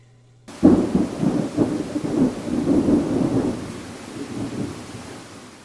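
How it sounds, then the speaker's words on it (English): A thunderstorm with rain begins abruptly: deep rolling thunder rumbles over steady rainfall, loud at first and then fading gradually. "Rain."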